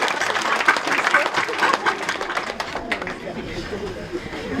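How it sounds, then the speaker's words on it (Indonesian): Church congregation at a thanksgiving Mass claps for the choir, a lively burst of many hands with some chatter mixed in, fading somewhat toward the end. "Kita beri tepuk tangan yang lebih meriah."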